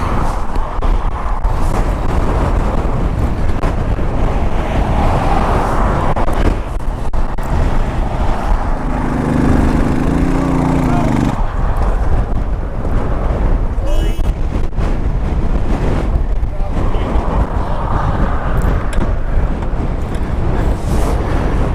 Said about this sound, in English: Frickin' wind is retarded